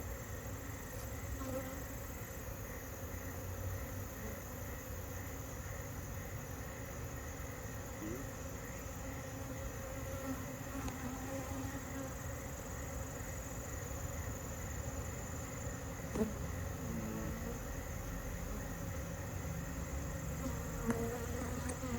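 A dense, steady drone of many honey bees buzzing throughout an open beehive during a mid-October inspection, close and continuous, with faint bumps and clicks of handling.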